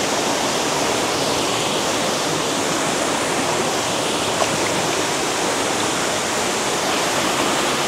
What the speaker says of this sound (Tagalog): Yan ang pinakamataas na falls sa buong Roxas.